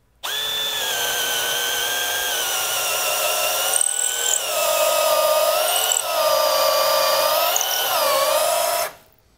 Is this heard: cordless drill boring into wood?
yes